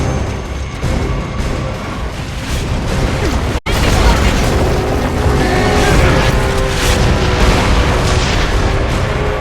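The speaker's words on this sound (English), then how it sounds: "Another mortar!" Mortar fire in the shooter Gears of War: Judgment brings a loud, dense roar of blasts and rumbling that runs throughout, broken by one sharp cut midway, with combat voices mixed into the din.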